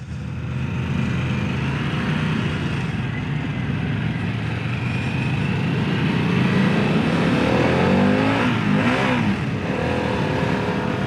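Harley-Davidson CVO Pan America motorcycle with the 117 high-output engine, a steady loud engine drone while riding that swells and revs up near the end, with no talk over it.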